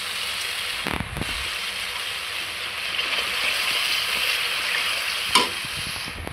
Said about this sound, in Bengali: এই যে মশলাগুলো দিয়ে ভালোভাবে আমি কষিয়ে নেব।